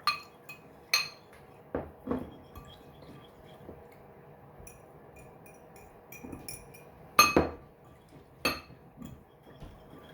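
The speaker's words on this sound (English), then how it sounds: "So we're just going to whisk really good." A whisk clinks against a bowl while mixing a homemade hand sanitizer with essential oil, irregular metallic taps and scrapes, close but fairly quiet, with gaps between bursts.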